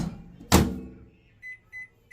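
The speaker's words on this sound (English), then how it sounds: "we'll microwave this for 2 minutes" A microwave oven heating a pouch of quinoa and brown rice with garlic gives a loud thud as it starts, then a quiet hum, followed by three short electronic beeps at an even pace.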